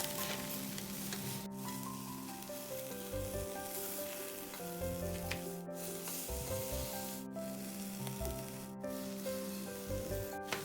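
Honey soy barbecue chicken sizzles steadily in a pan, a continuous quiet frying hiss with occasional scrapes and turning sounds, and no voices over it.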